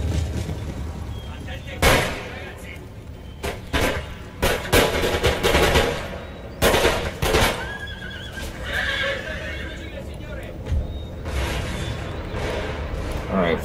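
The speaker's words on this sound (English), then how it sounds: "Take some pot shots at them," Musket volleys from soldiers on a battlefield in a war video game, several sharp loud shots cracking out in irregular bursts over a busy backdrop of horses and ambient noise, with someone talking throughout.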